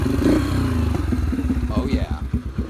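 A motorcycle engine firing up on choke right after a carburetor rebuild, a close, loud, uneven putter with pulsing rhythm, while a voice briefly sounds over it.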